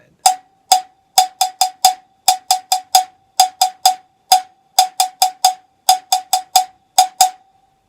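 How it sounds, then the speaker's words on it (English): A cowbell struck with a stick plays a repeating mambo pattern, bright metallic clanks in a steady syncopated rhythm, close and loud with no voices. "I'm going to play you the Mambo bell pattern"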